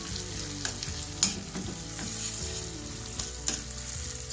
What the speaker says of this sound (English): And then we'll give it a fry up.